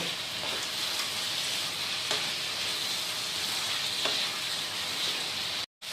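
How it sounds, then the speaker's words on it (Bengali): Potatoes are mixed into a crab gravy in a hot pan, a constant loud sizzle with occasional faint spoon taps, cutting off abruptly near the end. "আলুগুলো একবার ভালো করে সমস্ত গ্রেভির সাথে মিক্স করে নেব"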